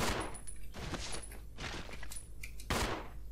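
Gunfire in the survival-horror game Resident Evil 0 HD Remaster, several sharp bursts of shots in quick succession with no talk over them.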